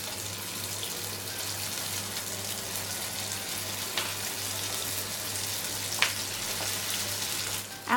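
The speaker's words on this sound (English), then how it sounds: "keep the heat on medium or medium-low and start frying" Steady crackling sizzle of Vietnamese spring rolls frying in oil over medium heat, continuous and close, with a few sharper pops and a low hum underneath.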